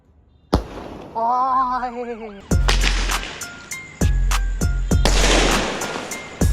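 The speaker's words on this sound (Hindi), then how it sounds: "भाई चल जाना चाहिए यार ये वाला स्काई शॉट" Sky shot firework lit during a Diwali cracker test: a rising whistling launch, then a series of sharp, loud bangs bursting one after another overhead at close range, with crackling between them.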